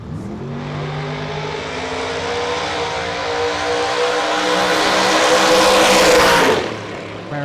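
A Dodge Charger and a Chevrolet Camaro racing on a mile track, a loud sustained engine roar building as the cars pass close and then cutting off abruptly near the end.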